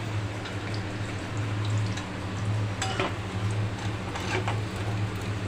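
Soft sizzling of tempering spices frying in a pan on low heat, with a low steady hum underneath and a few faint clinks, close by with no one speaking.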